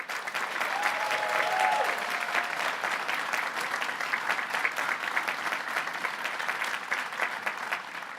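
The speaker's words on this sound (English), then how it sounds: "Let's give him a round of applause." Crowd at a rally at the Hotel & Motel Trades Council giving sustained, dense applause that stays loud and even throughout, with a faint whistle near the start.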